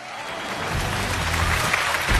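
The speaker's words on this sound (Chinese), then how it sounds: "掌声请出这一对，有请" A studio audience at a Chinese relationship-mediation TV show applauds to welcome a couple onto the stage, the clapping swelling into a dense, loud, continuous wash with no talking over it.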